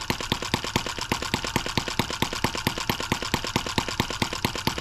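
Small model engine converted from a nitro-fuel carburetor to a large carburetor, running steadily with rapid, evenly spaced sharp firing pulses, loud and close, with no voices.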